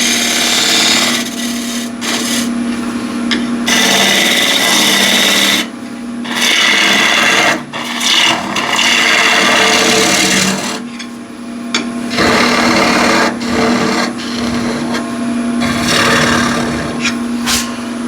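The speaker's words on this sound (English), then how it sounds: "I want to cut nice clean tenon." A spindle gouge cuts a wood tenon on a spinning lathe, giving loud, close rasping and scraping in repeated bursts of a few seconds each over the steady hum of the machine.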